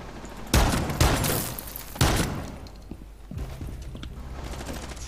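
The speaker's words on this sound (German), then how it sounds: "Hier wird geschossen." Gunfire in Rainbow Six Siege comes in three sharp, loud bursts close together, then trails off into quieter echoing shots and mechanical clatter in the background.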